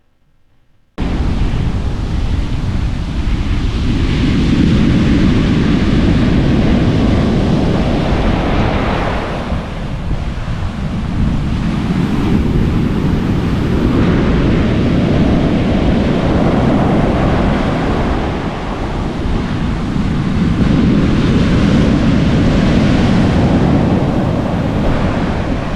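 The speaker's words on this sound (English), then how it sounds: "Those are some big waves." Big Pacific ocean waves surging and crashing onto a beach in Redwood National Park, a continuous roar that swells and recedes in long cycles, with wind buffeting the microphone.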